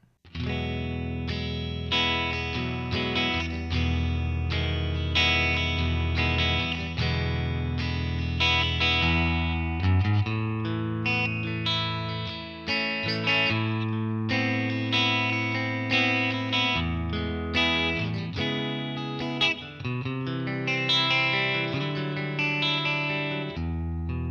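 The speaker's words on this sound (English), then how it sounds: "I wanted to add a hall reverb just to give the tone a sense of ambience" Electric guitar playing chords and melodic lines, drenched in a spacious hall reverb that makes the tone sound wide and ambient.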